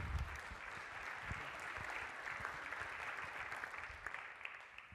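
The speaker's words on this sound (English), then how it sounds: "Let's give her a big round of applause." Faint, distant round of applause from a business IT seminar audience, an even spread of clapping that carries on quietly for several seconds.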